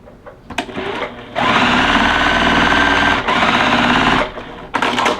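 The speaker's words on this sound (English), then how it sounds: "I am sewing with a scant 1/4 inch because some of these blocks do not have a lot of space" A sewing machine runs steadily, stitching quilt block strips with a scant quarter-inch seam, a close, loud motor whir in two long bursts with short pauses and handling noise between.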